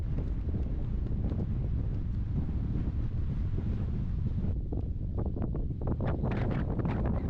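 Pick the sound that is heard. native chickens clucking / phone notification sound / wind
wind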